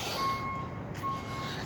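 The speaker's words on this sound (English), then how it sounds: "And a truck backs up to make noise." A reversing truck's alarm gives two steady electronic beeps separated by a short pause, loud and fairly close over a noisy outdoor background.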